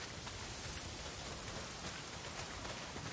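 Heavy downpour in the video game Days Gone, a dense, steady wash of rain hiss filling the whole clip at an even level with no talk.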